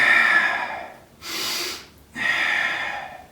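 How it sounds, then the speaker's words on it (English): Three forceful breaths held while bracing in a bear exercise position: two long, loud hissing exhales with a softer sharp intake between, close and alone with no talk. "Now I'm just breathing like this just to teach you."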